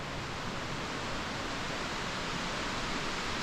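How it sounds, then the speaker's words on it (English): A waterfall near Sprinkling Tarn in England's Lake District giving off a constant, even rush of falling water, fairly quiet and unbroken, with no voices. "So there it is, the waterfall."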